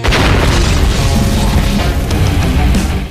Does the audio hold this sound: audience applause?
no